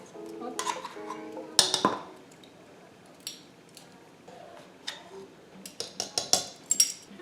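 Dry ingredients for an apple cider loaf cake, among them nutmeg and baking powder, are stirred in a bowl, making scattered clinks and taps of utensil on bowl in irregular bursts, close, with no talking.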